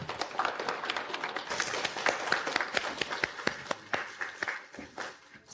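Many hands applaud at a corporate keynote as a company director is welcomed to speak, a dense patter of sharp claps at moderate level that thins and fades toward the end.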